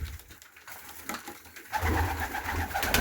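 Pigeons coo softly in a low, murmuring flock, with rustling and movement growing louder partway through.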